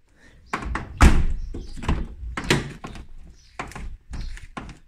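Peugeot 306 car doors shutting and thunking, a series of about eight close, solid thuds and clunks spaced unevenly over a few seconds, with no talking.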